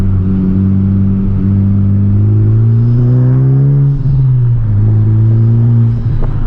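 Honda Civic Type R taking a roundabout at about 30 mph, a loud, steady engine drone from inside the car whose pitch rises, dips and then settles, with no talking.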